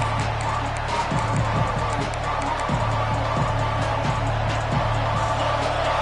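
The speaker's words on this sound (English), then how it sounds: "this home crowd is fired up and ready to make a difference today" A home crowd at a college football game roars steadily at kickoff against the Wolverines, a broad continuous wash of cheering with a low hum running underneath throughout.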